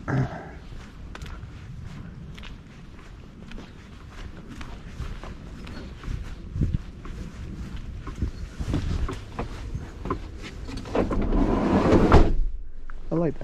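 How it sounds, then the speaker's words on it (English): The sliding door of a Rivian electric delivery van used on an Amazon route rolls and slams shut with a loud, close clunk near the end, following a long stretch of rustling, rumbling cabin and road noise. "I like that slide door."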